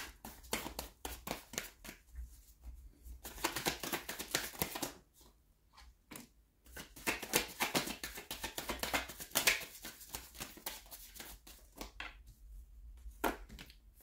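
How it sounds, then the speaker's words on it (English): Tarot cards are shuffled by hand at close range, with repeated bursts of crisp papery riffling and slapping separated by brief pauses, quiet and with no talk. "So I'm gonna shuffle again because nothing's really popping"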